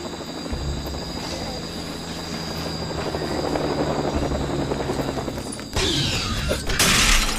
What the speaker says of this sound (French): Il y a un autre hélico qui arrive!